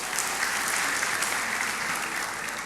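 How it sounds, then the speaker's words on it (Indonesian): A church congregation applauds in steady, dense clapping that stays loud and continuous from start to finish, with no voices rising above it. "Kasih tepuk tangan untuk Tuhan."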